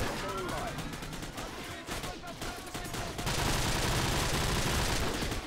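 Rapid modified-rate gunfire in the PC game Call of Duty 4, a fast continuous stream of shots that runs loud and unbroken through the whole stretch, with a voice talking over the opening part.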